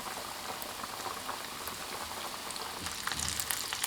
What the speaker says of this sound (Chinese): 放入鸡胸肉，全程开小火慢炸。